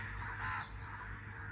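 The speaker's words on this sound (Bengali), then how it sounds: "সকালটা চারিদিকে কাক ডাকতেছে।" Crows cawing outdoors on a cloudy morning, one harsh caw standing out over a low background hum, fairly close and clear.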